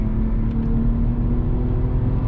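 A car on the Nürburgring circuit runs at full throttle, its engine giving a steady droning roar with a sustained tonal hum, loud and close, heard continuously with no talking.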